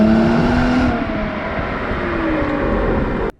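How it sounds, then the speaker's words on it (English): A Mercedes C400 4MATIC C-Class engine pulls hard under acceleration, its rising drone dropping as it shifts from second to third, then climbing again; mostly engine note rather than exhaust, loud and close, cutting off abruptly at the end. "second to third, lovely, but it's all engine sound, not that much exhaust sound"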